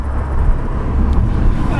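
A steady low motorcycle engine rumble runs throughout, loud and close, with faint voices mixed in underneath.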